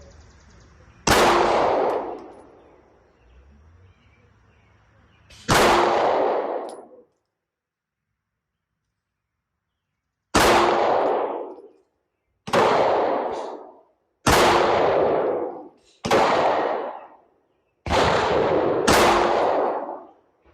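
Sig P365 X-Macro pistol firing Federal Premium law enforcement 147 grain rounds at an outdoor range, loud sharp shots with ringing tails, two spaced apart, then five in quicker succession.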